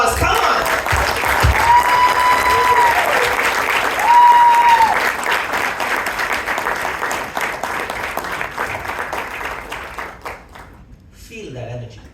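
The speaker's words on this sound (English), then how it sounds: "give me a thunderous round of applause" A crowd at the 1500th Bangalore Toastmasters Club meeting gives loud, sustained applause for about ten seconds, dense clapping that fades near the end with a brief voice after it.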